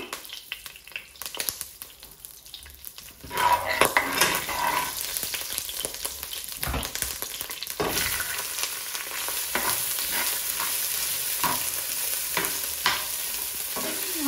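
Whole cumin seeds dropped into hot ghee for a Sylheti yakhni pulao, a sudden loud sizzle that swells and holds as a steady frying hiss with occasional stirring scrapes, close by, with no voices.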